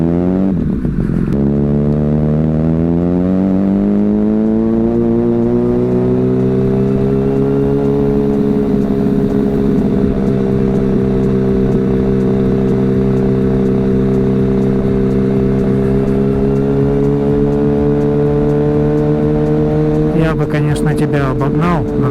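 A motorcycle fitted with an aftermarket exhaust revs up and then holds a loud, steady, throbbing engine note close by, settling into a sustained drone before a brief clatter at the end.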